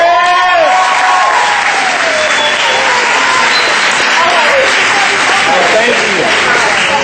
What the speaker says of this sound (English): I want you to give them a round of applause because they believe in you.